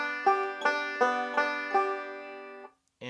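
A banjo plays a steady picked Dillard roll pattern, bright plucked notes repeating in an even rhythm, then a short pause and one more note.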